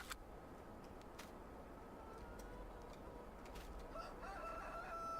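Chickens and a rooster in Farming Simulator 19, heard as faint, distant crowing and clucking over a soft, steady background hiss, with no talk.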